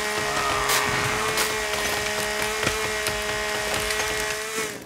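A chainsaw cuts into a tree in the survival game The Forest, a steady, loud motor drone with sustained tonal whine and a few sharp cracks, tapering off at the end.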